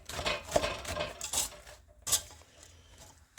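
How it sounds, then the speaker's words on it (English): Brown sugar being stirred in a pot for a crabapple pie, with soft scraping and a few clinks of a utensil against the metal, close and fairly quiet with short pauses. "And we turn it on and stir."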